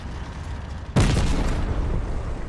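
A building collapses in a battle royale shooter game, one sudden heavy boom followed by a sustained loud crumbling roar that stays up to the end, with no talk.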